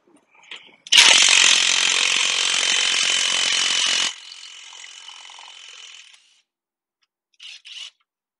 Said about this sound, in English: when I take this top bolt out, we should be able to kind of move that spring around a little bit